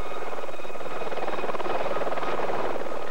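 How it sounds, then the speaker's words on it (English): A UN police helicopter flies nearby, its steady rotor and engine roar filling the scene as a broad, continuous wash of sound that swells slightly toward the end. "UN police dispatched a helicopter like this one to take their photographer up for an aerial view"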